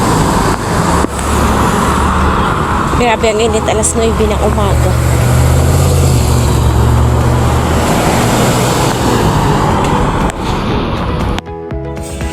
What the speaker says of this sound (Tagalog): maraming sasakyan na dumadaan